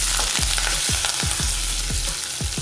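Mustard seeds, fennel, cumin and curry leaves sizzle and crackle in hot oil, a bright steady hiss broken by regular scraping stirs of a spoon in the pan.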